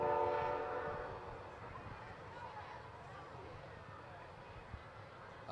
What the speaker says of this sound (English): Maybe they don't want to play with the train passing by.